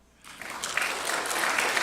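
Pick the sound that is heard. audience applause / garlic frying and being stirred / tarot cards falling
audience applause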